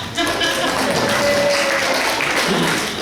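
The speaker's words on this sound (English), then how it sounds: "Yes, clap." Audience at a community fire prevention meeting clapping for a council assistant, a short burst of steady applause with some voices mixed in.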